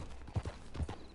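A horse's hooves clip-clop at a walk in Red Dead Online, a western game. Only a few soft, muffled steps are heard over a steady low background.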